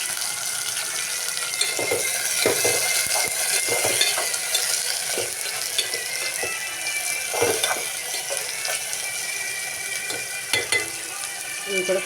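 Onion and tomato pieces cook in a pan for okra curry, giving a low, steady sizzle broken by irregular scraping and clinking as the mix is stirred, close up and with no talking.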